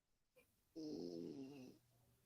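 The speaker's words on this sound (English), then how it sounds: "I heard her snoring over there." A person snoring nearby, a single drawn-out rasping snore that starts abruptly after a faint breath, moderately loud against a quiet room, with no talking.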